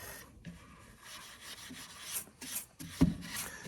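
Stripping an old piece of wooden furniture: quiet, uneven rasping strokes of rubbing across the wood surface, soft scraping bursts with a sharper knock near the end, no voices.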